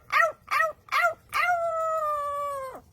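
A parrot imitates a dog: three short bark-like yips, then one long, steady, tonal howl that holds for over a second before cutting off sharply, loud and close with no talking.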